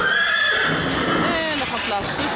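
Horses in a riding-school stable aisle, with a clear neigh or whinny ringing out over continuous busy stable noise and speech throughout.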